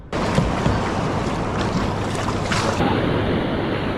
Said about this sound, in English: Dang, some of those waves are popping up 6 feet tall.